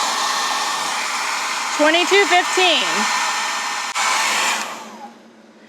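Steady broadband fan whoosh from the cooling fan of a Jackery Explorer 1500 portable power station running hot, continuous and fairly loud under a short burst of talk before it cuts out near the end.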